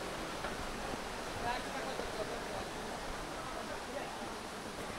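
Water pours steadily at Damakol waterfall in a forest, a constant broad rush of falling water that stays even and close throughout with no pauses.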